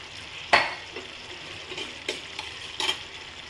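Yogurt being stirred into a simmering paneer curry in a pan on low heat, a few soft scraping clinks of the spoon at intervals over a faint sizzle, close and fairly quiet with no talking.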